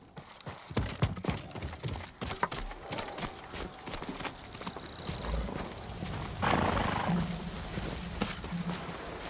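A horse's hooves clip-clop close by in the Ghost of Tsushima game, followed by a loud whinny that rises midway and trails off under a low rumble.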